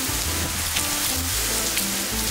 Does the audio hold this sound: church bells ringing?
no